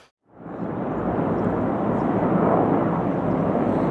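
Military helicopters flying over Moshchun in Ukraine, heard as a steady, loud engine roar that rises quickly and holds for several seconds, alone without voices.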